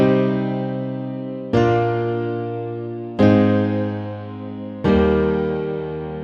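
Layered piano chords from expanded piano patches stacked with FL keys, struck three times in slow succession, each chord sustaining and decaying before the next; bright, full and close, with no voices.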